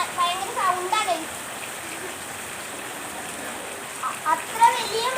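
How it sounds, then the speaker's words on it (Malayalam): Light night rain makes a steady broadband hiss throughout, with a person talking over it near the start and again near the end. "അത്ര വലിയ മഴയൊന്നുമല്ല ഗൈസ്. പക്ഷെ ഭയങ്കര സൗണ്ടാ."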